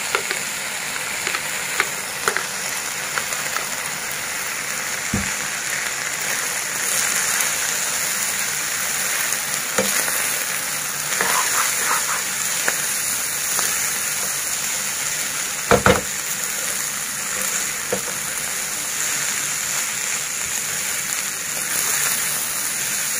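Egg fried rice with scrambled egg is stir-fried in a pan under a steady, dense sizzle for over twenty seconds, with occasional sharp clinks and scrapes of the spatula against the pan.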